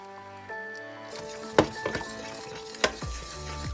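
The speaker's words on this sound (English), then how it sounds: "when it's boiling, turn off the heat and off the fire and keep stirring" A spoon scrapes and knocks around a pan while tomato-based tonkatsu sauce simmers with a soft bubbling hiss, with a few sharp clinks of metal against the rim.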